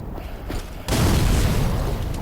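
In Dark Souls 3, a thrown bomb goes off with a sudden broad boom that spreads into a rumbling, crackling burst, following a brief quieter lead-in with no talking.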